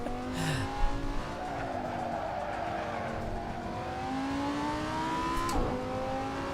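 A Lamborghini Gallardo slides and understeers in the Assetto Corsa racing game. The engine drones and revs steadily, and tires squeal in long rising and falling whines throughout.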